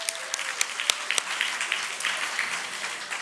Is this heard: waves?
no